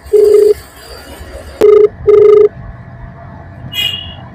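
An outgoing phone call rings unanswered: loud, steady ringback tones sound in repeated bursts, one short then two longer, with a brief sharp click and a faint high chirp near the end. Quiet background noise sits between the rings.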